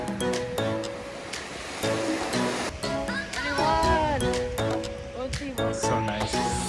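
Steady ocean surf washes onto a beach on Catalina Island, a continuous broad rush under lively voices, laughter and chatter from people close by.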